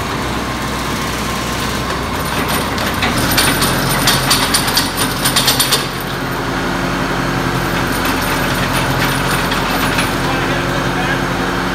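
Vermeer T-455 trencher running with a new chain spinning, a loud steady mechanical drone with clattering and rattling that swells in the middle, near and continuous, with people talking over it.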